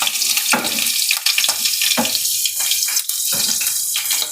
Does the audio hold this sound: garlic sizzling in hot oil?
yes